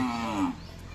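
A single low moo from a bull, fairly close, lasting about half a second before fading into quiet background at a cattle market.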